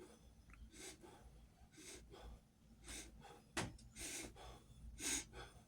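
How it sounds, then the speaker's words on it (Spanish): Rapid meditative breathing, forceful inhales and exhales driven by sucking in and releasing the abdomen, heard close and alone as a series of about eight sharp breath bursts at a brisk, slightly uneven rhythm. "inhalo y exhalo, metiendo, succionando el abdomen y soltándolo en esta forma"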